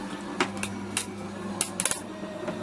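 A Crafters Companion Gemini G2 electric die-cutting and embossing machine runs with a low, steady motor hum, punctuated by a handful of faint clicks and ticks, quiet and close.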